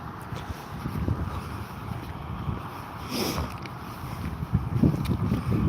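Gusty wind at Withernsea on a cold, wet winter evening buffets the microphone in a low, uneven rumble, swelling louder toward the end, with a faint hiss of surf underneath.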